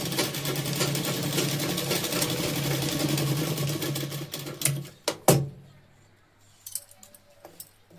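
A sewing machine stitching a blouse runs steadily and close, then stops; a few sharp clicks and handling noises follow in the quiet.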